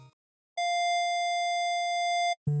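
A single sustained electronic tone, pure and steady, holds for nearly two seconds, then cuts off with a brief low blip after.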